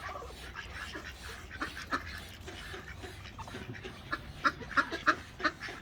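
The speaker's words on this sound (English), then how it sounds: "The peacocks walking around here." Peacocks roam outdoors, with short bird calls rising over a quiet background, a single call early on and then a quick cluster of sharp cries toward the end.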